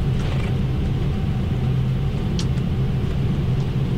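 A continuous loud low rumble fills the cockpit of an Emirates Boeing 777 taking off from Amsterdam, steady and unbroken, with a brief faint click near the middle and no voices.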